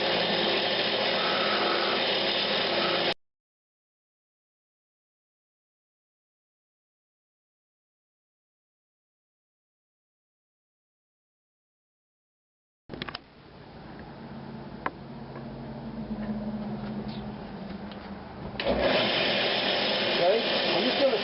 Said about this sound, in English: Now I'm just going to start shaping the pitch. And I'll do that with my spindle gouge.